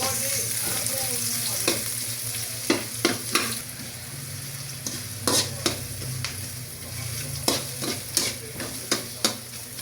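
Onion sautéing in a pan as chicken mushroom is prepared, with a steady sizzle under a low hum and a run of sharp utensil scrapes and taps from regular stirring.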